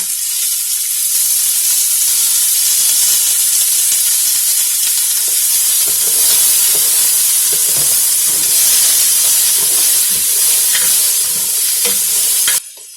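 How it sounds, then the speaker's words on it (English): Chopped vegetables and onions saute in hot olive oil in a pan for albondigas soup, a steady loud sizzle and hiss with occasional stirring scrapes, running continuously and close before cutting off at the end. "I just saute these for a couple minutes, the veggies"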